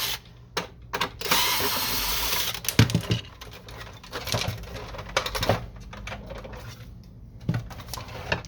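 Screws are worked loose with a tool while an Epson WF-2630 printer is taken apart, giving irregular close clicks, rattles and scraping bursts of plastic and metal with short pauses between them.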